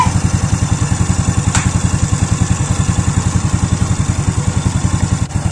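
A high-compression motorcycle engine with a stock starter runs steadily, loud and close, with a fast, even, throbbing idle pulse and a rough mechanical clatter throughout.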